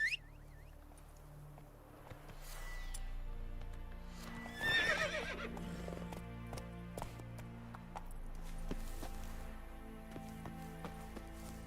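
Roach the horse whinnies in a video game, with hooves clopping at a steady walking pace over a low ambient music bed.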